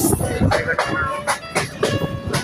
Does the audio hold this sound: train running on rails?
yes